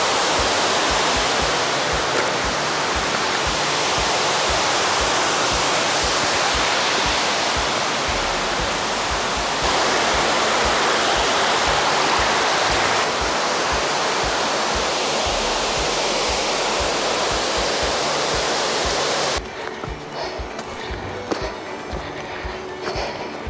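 Rushing water of the Stroppia waterfalls in the Italian Alps, a loud, dense and continuous roar that fills the whole clip, easing slightly in the last few seconds.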